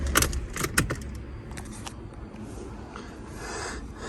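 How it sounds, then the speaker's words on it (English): A key jangles on its ring and turns in the ignition of a low-mileage salvage Fiat 500, with a few sharp close metallic rattles early on over a steady low background hum. "So what I'll do is I'll put it in ignition"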